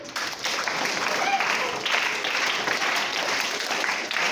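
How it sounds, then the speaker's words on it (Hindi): Classroom of sixth and eighth grade students clapping together during a meditation session at a government school, a steady dense round of applause lasting several seconds at moderate loudness with no talk over it. "ताली बजाओ"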